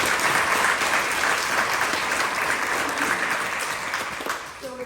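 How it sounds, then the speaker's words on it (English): An audience bursts into loud, sustained clapping at an event about professional wrestling, a thick even wash of applause that holds steady and tapers slightly at the end. "So if we could give them a round of applause."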